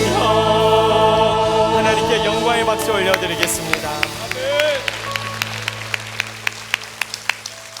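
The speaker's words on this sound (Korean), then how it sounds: "박수 올려드리겠습니다." Church congregation applauding during a worship service, the clapping blended with ongoing music and singing before thinning into a few scattered, separate claps near the end.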